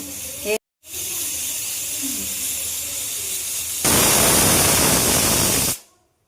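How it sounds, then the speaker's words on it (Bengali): Pressure cooker of mutton curry with papaya on a gas stove venting steam: a steady hiss swells into a loud rushing release lasting about two seconds, then stops sharply, with a brief sound at the start. "আমি একবার সিটি একটু কাটিয়ে দিই তো আমরা একটা সিটি দেবো এখানে দেখো"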